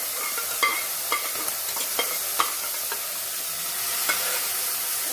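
Mutton pieces sizzle and are stirred in a pan for a homestyle curry, a steady frying hiss broken by periodic scraping clinks of the spatula, close and fairly loud.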